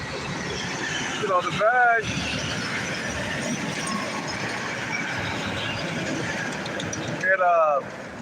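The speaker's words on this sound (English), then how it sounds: "all this goddamn traffic right now, man. Noise pollution and shit." Busy street traffic makes a constant rumble of cars and engines, with two brief high squealing sounds standing out and someone talking over the noise.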